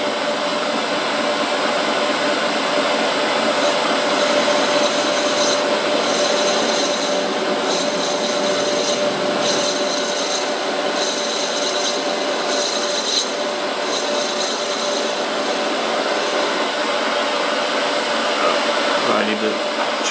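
Metal lathe turning a small part for a tea kettle whistle, a steady continuous cutting hiss with a constant tonal whine over motor hum, close and even throughout, no talking.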